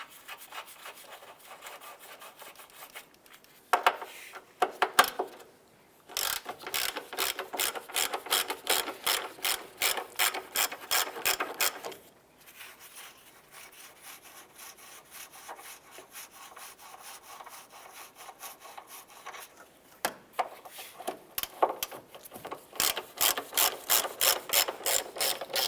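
A hand ratchet fitted with a 15 mm deep socket loosening the strut nuts on a 2011-2019 Ford Fiesta, rapid close clicking in repeated bursts separated by short pauses, loud and without talk.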